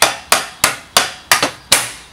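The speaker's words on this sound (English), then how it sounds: "I'm just going to shock this motor up a little bit like this with a hammer." A hammer strikes the metal end bell of a Pentair Whisperflo pool pump motor six times in an even rhythm, each sharp close-up clang decaying quickly before the next blow.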